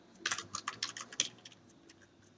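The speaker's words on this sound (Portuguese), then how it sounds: "eu fico trocando toda hora aqui o teclado" Rapid, light keystrokes on a computer keyboard, a close, quiet burst of irregular clicks that trails off into sparser taps, with no voices.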